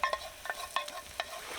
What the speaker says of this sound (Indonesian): Masak nasi.